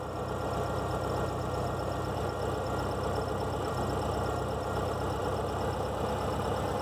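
A car engine idles roughly, as if misfiring, in a steady uneven low rumble with a knocking, shaky rhythm, heard close and continuously without speech.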